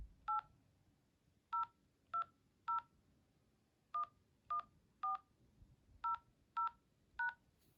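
Telephone keypad tones entering a number on a phone line, eleven sharp dual-tone beeps pressed one by one in uneven groups, clear and close over faint line hiss, with no talking.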